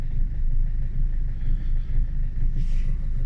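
A car engine idles steadily at close range, a low continuous rumble with a faint rhythmic pulse, running alone without voices throughout.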